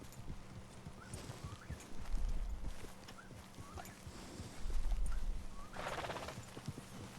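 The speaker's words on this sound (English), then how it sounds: "Oh look, we're going on a little horse ride." Horse hooves clip-clop steadily during a ride in the video game Red Dead Redemption II, soft and moderately close, with occasional louder hoof thuds and a faint whinny over quiet ambient game sound.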